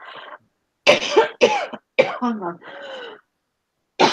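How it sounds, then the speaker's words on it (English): A person coughs in a series of harsh, close bursts, several in quick succession with short gaps, one brief spoken word mixed in. "I hate this cough"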